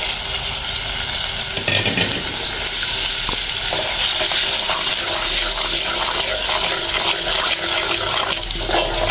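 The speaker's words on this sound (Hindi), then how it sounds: "थोड़ा सा पानी की बूंद डालें ताकि मसाला हमारा जले नहीं।" Masala paste of ground red chili, turmeric and salt sizzling and frying in a pan for an egg curry, with a loud, steady hiss and bubbling as a splash of water is added, no talk.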